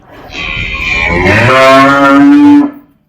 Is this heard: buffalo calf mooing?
yes